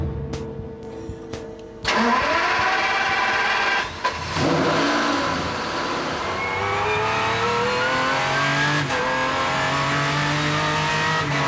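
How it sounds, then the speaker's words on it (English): Aston Martin DBRS9 GT3 race car at full speed on a circuit, its engine roaring loud and close with rising and falling revs through gear changes, continuous with no talk. "We've skipped the warm-up laps to catch up with Zanger on his second run, in full flight."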